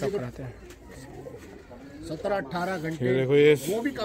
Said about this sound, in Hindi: सुनील भाई के कबूतर है जी